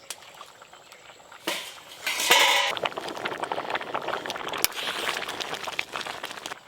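A lid lifted off a pot of sour fruit seeds simmering for a Bengali home meal, a brief clatter around the two-second mark, then steady bubbling and light liquid sounds continuing close by.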